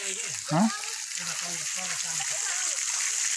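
Steady rushing water hisses in the background while people talk over it nearby.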